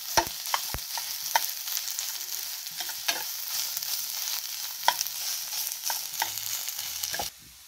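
Onion and quelites frying in a pan for an egg dish, a steady hiss and sizzle with repeated sharp scrapes and clinks of stirring throughout, close by with no talking.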